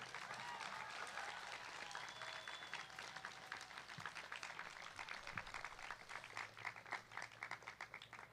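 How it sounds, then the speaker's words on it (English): A commencement crowd at Woodbury University claps in a sustained round, individual hand claps audible as a dense crackling texture, fairly distant and quiet, with faint voices and a few stray noises beneath. "I'd like us to give a round of applause to everyone who has helped make this day possible."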